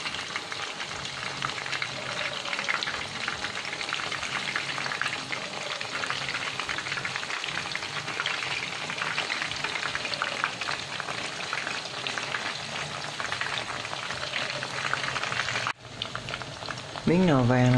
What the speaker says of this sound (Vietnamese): Mình chiên cho nó vàng rồi mình sẽ gấp ra.